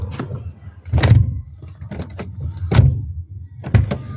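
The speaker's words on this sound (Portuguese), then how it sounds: "Porta no lugar, ó, fechando, ó," A Fiat Palio Siena front door is opened and shut repeatedly while its door check strap is being replaced. Three or four solid close thuds land at an even pace, each followed by a brief rattle, with no one talking.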